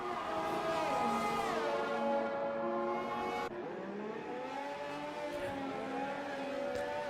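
Racing cars in F1 Rapid Racers whine through gear changes, with several engine tones climbing and dropping together in a continuous, moderately loud drone and no voices.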